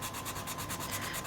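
A yellow coloured pencil rubs over paper in fast, even back-and-forth strokes, a close, soft scratching that repeats steadily with no voices.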